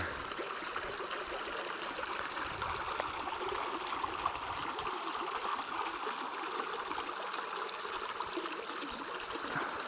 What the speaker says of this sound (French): cette fameuse rivière qui permet au village de vivre ici